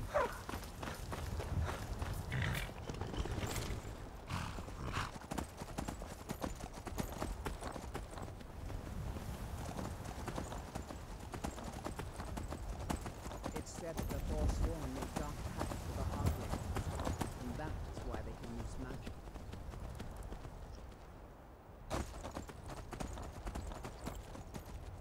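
Horse hooves clip-clop steadily in Skyrim, a continuous walking or trotting rhythm close by, with someone talking over much of it and some ambient game sound underneath.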